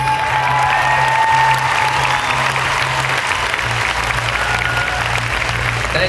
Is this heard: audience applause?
yes